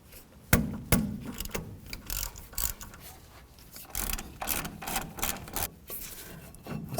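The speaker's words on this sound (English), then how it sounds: "Use your 3/8 socket." A ratchet with a 3/8 socket works loose the Allen-head caliper slider pins on a 1988-2002 GMC Sierra 1500, giving uneven mechanical clicking and metallic rubbing with a few sharper knocks. No talk.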